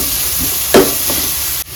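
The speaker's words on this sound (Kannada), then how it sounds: "ಈರುಳ್ಳಿ ಹಾಕಿ ಅದನ್ನ ಸ್ವಲ್ಪ ಚೆನ್ನಾಗಿ ಮಿಕ್ಸ್ ಮಾಡಬೇಕು" Onions being stirred and fried in a pan for mutton masala make a loud, steady hiss with a couple of spatula scrapes and a brief clunk, with no talking.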